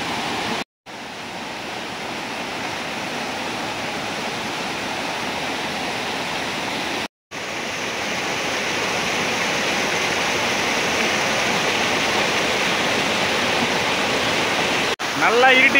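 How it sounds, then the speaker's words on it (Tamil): A mountain waterfall on the Agasthyarkoodam trail roars as a steady, dense rush of water, close and continuous, with two brief cuts to silence early on. "வர வழியில் இன்னொரு அருவிங்க பாருங்கள், எவ்வளோ சூப்பராக இருக்குன்னு பாருங்கள்."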